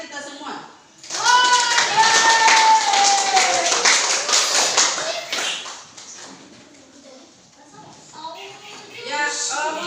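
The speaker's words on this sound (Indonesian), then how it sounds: "Kita berikan aplaus kepada kita semua." Classroom applause for students, a sustained burst of clapping that swells then fades, mixed with children's voices and a teacher talking around it.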